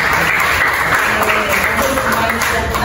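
Classroom applause for a student named Arin during an Indonesian science lesson, a steady burst of many hands clapping throughout, loud and close, with a teacher's voice faintly over it.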